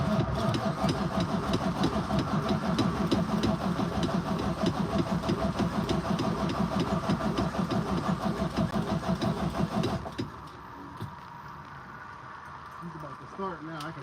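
A truck engine cranks and turns over for about ten seconds in a fast, rhythmic, loud chugging, then cuts to a quieter rumble as it catches, while someone talks over it.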